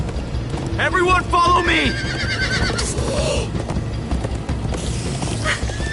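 Horses neigh and their hooves clip-clop at a gallop in the Minecraft Story Mode video game, with whinnies rising over steady rhythmic hoofbeats and background game music while a character calls out over it.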